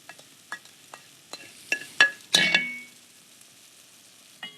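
Veal goes into a hot pan holding a little leftover white-wine liquid, with scattered clinks and knocks before a loud burst of sizzling that fades quickly, close by and with no talking.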